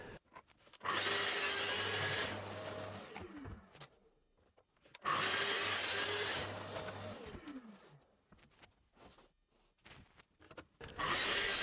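Two long passes of a saw cutting through thin 6mm plywood cabinet panels, each a loud sustained rasping burst of a couple of seconds, separated by quieter shop noise, close by with no talk.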